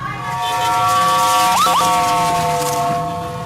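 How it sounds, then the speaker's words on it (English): Emergency sirens wail loudly and steadily with overlapping tones after the Beirut explosion, including a couple of quick rising yelps partway through, close by. "The stream of sirens from emergency services was constant."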